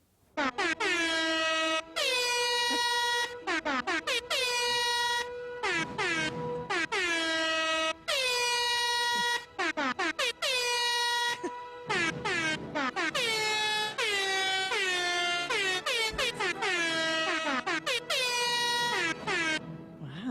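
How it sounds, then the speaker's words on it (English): Loud, repeated air horn blasts in quick succession, several overlapping tones sounding on and off continuously without pause. "That's a different one. That's air horns."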